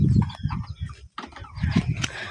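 A crowd of chickens gathered beneath a house clucks continuously and close by, their overlapping calls filling the space.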